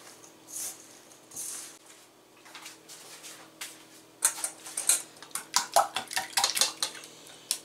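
Eggs being beaten in a bowl with a utensil for Mexican-style green bean patties, with soft scraping at first and then quick rhythmic clinks of utensil against the bowl, close and alone.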